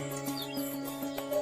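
A baby turtle dove in an open aviary cage chirps softly while eating, short faint tweets over a steady background hum.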